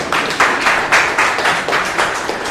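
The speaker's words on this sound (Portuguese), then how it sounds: "Uma salva de palmas para o rim dela, por favor." Audience applause at a spiritual meeting, a steady run of rhythmic hand clapping, fairly loud and close, with claps falling into a roughly regular beat.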